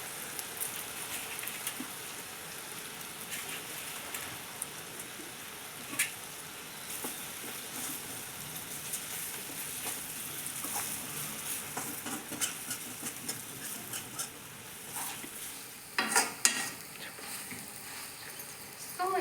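Stuffed bitter gourd frying in a pan with leftover spice powder tossed in gives a faint, low crackle and sizzle. Scattered soft stirring clicks sit on top, and a busier clatter comes near the end.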